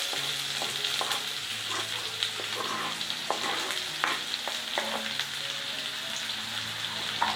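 Chopped onions fry in three tablespoons of hot oil in a kadai for dhaba-style paneer bhurji, with a continuous sizzle broken by stirring scrapes and clicks, close and fairly loud, no talking.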